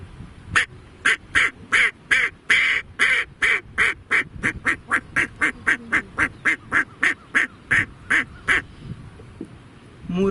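A man imitates a duck, giving a fast run of about thirty evenly spaced nasal quacks, loud and close, with no other voices.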